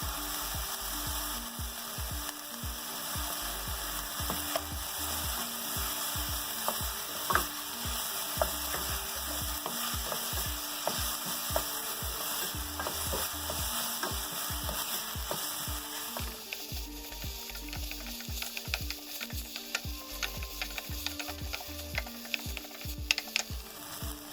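Ginger and garlic fry in a pan for broad beans curry, a steady bright sizzle with rhythmic scraping and clacking of a stirring spoon against the pan, the sizzle intensifying partway through, with no voices.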